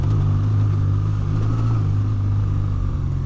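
A 2026 BMW R12 G/S motorcycle engine pulling steadily uphill in low gear off-road, with a loud, continuous low rumble and little change in pitch.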